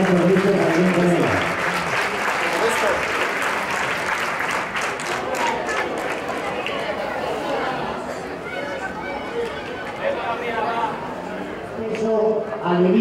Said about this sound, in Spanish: Un fuerte aplauso para estas ganadoras de los medallas de los 60 metros lisos